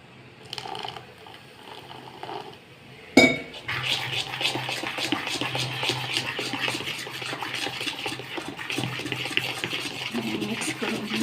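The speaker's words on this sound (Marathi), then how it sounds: "थोडंसं पाणी घालूया" Water poured into dhokla batter of lentils and rice in a pot, then a sharp clatter and continuous scraping, stirring and clinking of a spoon against the metal vessel, close and steady.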